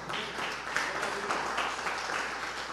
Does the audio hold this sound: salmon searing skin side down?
no